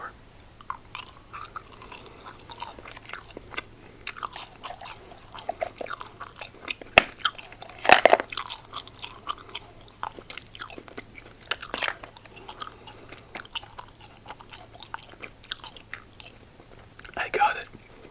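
Ice Breakers Cubes gum chewed close to the mouth, with soft wet chomps and scattered crunchy bites, louder around the middle and near the end.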